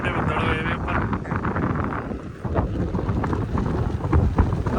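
Cool wind blows across open farm fields outdoors, a rough rumbling buffet against the microphone, with a person talking throughout.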